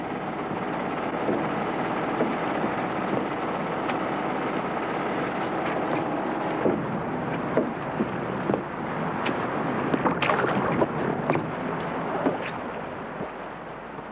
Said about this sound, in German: die meisten Schockerfischer hat Simon Wirz einen Motor als Antrieb der Seilwinden einbauen lassen